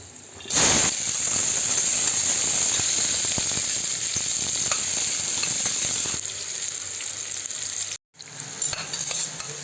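Cinnamon, cloves, onions and green chillies fry in hot oil, giving a loud, steady sizzle with a hissy spray throughout. The sizzle breaks off briefly near the end, then resumes.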